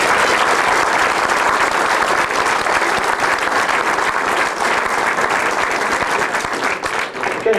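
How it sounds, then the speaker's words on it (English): A loud, dense round of applause fills a road racing awards banquet, sustained and even from start to finish before easing slightly at the very end. "I think they definitely deserve a round of applause."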